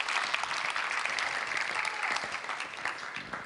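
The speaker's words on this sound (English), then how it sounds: "Give them a round of applause." Audience at a real estate summit keynote in Clark County, Washington, giving a round of applause: dense, continuous clapping from a sizable crowd, fairly close and strong throughout, with no speech over it.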